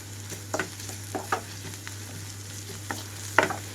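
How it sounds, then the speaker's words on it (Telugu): Vegetables with ginger garlic paste fry quietly over a low flame for a cauliflower and broad bean curry, a soft sizzle beneath a steady hum, broken by a few clear spoon scrapes and taps against the pan. "రెండు మూడు నిమిషాల పాటు వేయించుకుంటున్నాను లో ఫ్లేమ్లో ఉంచి"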